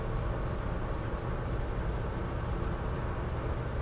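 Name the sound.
1971 Mercury Marquis Brougham cruising at 50 mph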